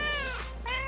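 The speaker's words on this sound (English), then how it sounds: "Oh, my sweet fluffy ones. The kittens will be mine." Kittens meow in a short, close pair of cries, each rising and then falling in pitch, with a small gap between them. A steady low hum sits underneath, and no one speaks.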